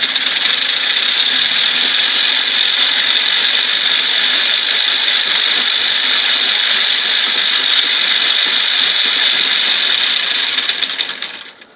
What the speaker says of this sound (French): Donc le moteur quand il tourne, là, vous voyez les 2 cylindres.